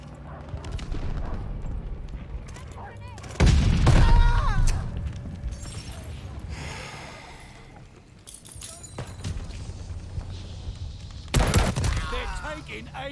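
Rapid gunfire bursts and heavy blasts from grenades in the video game Call of Duty Vanguard, with a large explosion mid-clip and another near the end, while players talk over the fighting.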